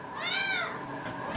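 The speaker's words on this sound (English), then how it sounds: "we gotta find a better meow" A single drawn-out cat meow, rising then falling in pitch, fairly close and clear over a faint background hum.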